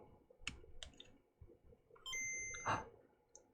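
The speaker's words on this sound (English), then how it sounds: "I got a beep. Listen, you ready?" A Game Boy Color handheld under repair for a possible short circuit gives a short electronic beep on switching on, a brief steady tone with a few faint clicks around it in a quiet room.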